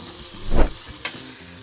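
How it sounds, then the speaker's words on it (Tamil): A short burst of sizzling as spices are tempered in hot oil for curd rice, swelling briefly then settling into a quieter hiss, with a second small crackle after. "இதை நம்ம தாளிக்க போகிறோம் தாளிச்சது தலையில் கொட்டிடலாம்"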